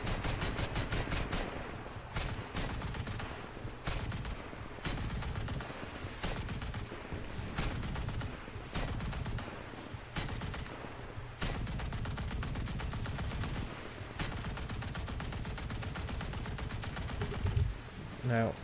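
Naval guns fire repeatedly during a War Thunder battle in the naval beta. The shots land as sharp bangs over a constant rumbling game din, and a voice can be heard talking through it.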